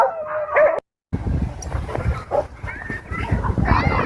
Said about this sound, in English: this video of this dog fight that breaks out at a dog park